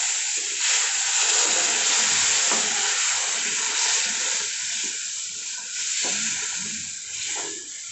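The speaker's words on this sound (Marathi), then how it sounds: "आता याच्यामध्ये आपण जे पाणी आणि दूध गरम केलं होतं ते टाकून घेऊयात" Hot water and milk are poured into roasted semolina for mango sheera, setting off a loud, continuous hissing sizzle with bubbling and stirring that carries on for the whole stretch.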